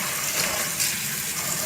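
Water gushes steadily from a tap into a vessel for soaking peanuts, a continuous, loud splashing rush with no breaks.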